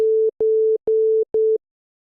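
A pure, smooth sine tone from the u-he Zebra2 software synth sounds in four short even bursts with small clicks at each start, steady pitch, clear and close with no voices.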